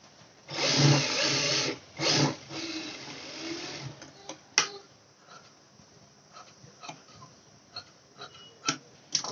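A sewing machine stitches fabric for a handmade latkan in two short whirring bursts, followed by scattered clicks and light taps from handling the cloth and machine.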